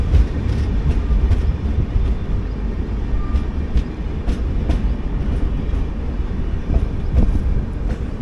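Mumbai–Trivandrum Weekly Express train rolling into Dharmavaram Junction, a steady loud rumble of wheels on rails with faint rhythmic clicks throughout, no voices.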